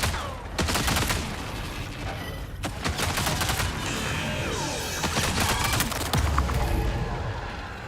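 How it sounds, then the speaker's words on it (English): Grenade blasts and rapid gunfire from the video game Marathon come in dense, overlapping volleys with sharp cracks and heavy booms, loud and continuous almost throughout. "Fucking grenades"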